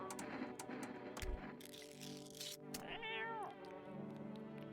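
A cat meows in the video game No I'm Not a Human, with a clear rising-and-falling meow near the middle among other faint game sounds, fairly quiet overall.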